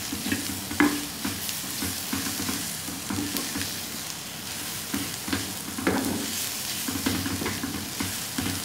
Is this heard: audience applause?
no